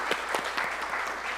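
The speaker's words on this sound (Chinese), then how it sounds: "我们再次拍手来欢迎她。" Church congregation clapping at a Sunday worship service to welcome a new member, a short burst of fairly soft, even applause from a moderate-sized group, heard alone.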